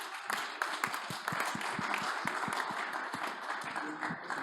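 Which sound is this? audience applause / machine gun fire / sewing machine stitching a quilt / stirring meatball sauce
audience applause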